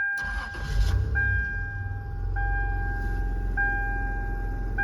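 A third-generation Toyota 4Runner with a four-wheel-drive conversion runs steadily with a low rumble while driving around a yard, with a faint intermittent tone repeating every second or so in the background.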